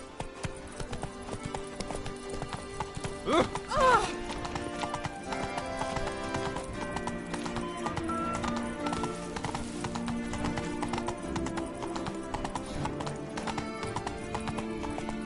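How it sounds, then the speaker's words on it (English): Hooves of the horse Roach clip-clop rhythmically at a gallop in The Witcher video game, a steady drumming beat under layered music and game ambience, with a brief whinny early on. "Run, Roach."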